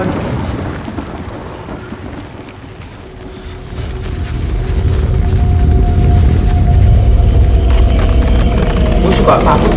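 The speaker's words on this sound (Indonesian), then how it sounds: "Ada geledek kan?" Thunder rumbles low and builds into a heavy, sustained roll over steady rain in the video game Death Stranding, loud and close throughout.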